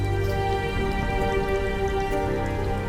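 Steady rain patters throughout an animated night scene, a dense, even hiss of drops with a constant low rumble beneath, with no one speaking.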